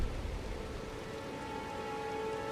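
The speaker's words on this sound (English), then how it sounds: "it just started raining again." Soft, steady rain falls in the game Elden Ring, a faint even hiss with no voices over it.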